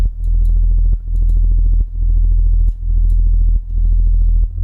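A loud, pulsing bass synth with a rhythmic wobble, its tone sweeping up and down in regular cycles with brief dips between phrases.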